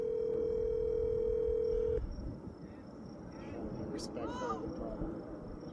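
A telephone call, placed from a car, gives a steady ringback tone for about two seconds, then cuts off into a quieter line with faint electronic chirps before voicemail answers.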